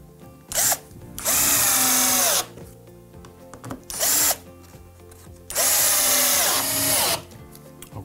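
A cordless power drill drives screws into pallet timber while building a chair, in four separate bursts, two short and two long, each a loud close whine that winds up and stops. Quiet handling noises fill the gaps.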